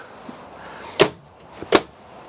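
The bunk room door of a 2018 Heartland Sundance XLT 297 QB fifth wheel RV is shut twice, giving two sharp, close thuds less than a second apart against a quiet interior.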